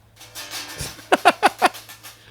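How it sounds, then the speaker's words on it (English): A quick series of dull, muted taps on drum pads, four close hits in a row after a softer rustle, near and fairly loud. "and the sound of drum pads being hit."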